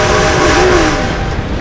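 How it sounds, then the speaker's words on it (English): A train rolling past in Red Dead Redemption 2, a loud close rumble with a brief tonal horn-like wail rising and falling over steady rail noise, no talk. "Gotta beat that train, Morgan."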